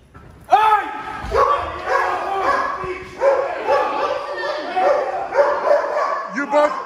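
A dog barks and yelps loudly and rapidly up close, with overlapping excited yips and whines continuing throughout.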